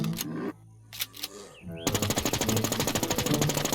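Sustained automatic machine gun fire in the survival shooter Infestation NewZ, a loud rapid rattle of shots following a few earlier single bursts, with someone speaking briefly before it.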